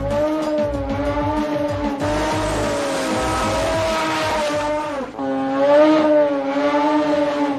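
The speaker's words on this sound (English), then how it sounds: "Hot burnout by Rivera" A 1973 Mazda RX-7 drag car doing a burnout at a drag strip, its rotary engine wailing at high revs over a continuous tire squeal, loud and close with the pitch rising and falling.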